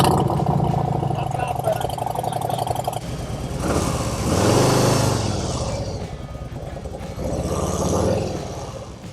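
A new Harley-Davidson motorcycle rumbles steadily while being ridden, its engine swelling louder twice as the rider accelerates, with steady road and wind noise and a person talking over it throughout.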